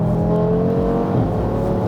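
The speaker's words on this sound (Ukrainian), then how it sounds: "От ми зараз їдемо в салоні сотку. Дуже шумно." Audi RS3 8V2 tuned past 700 horsepower accelerating, heard from inside a loud cabin as a steady droning engine tone with layered harmonics, with no talking.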